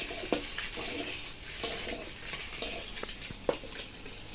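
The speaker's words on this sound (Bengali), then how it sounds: "এই যে ডিম ভাজা করলাম" Eggs frying in a pan on a home stove, a steady close sizzle with small pops and clicks scattered throughout, no talking.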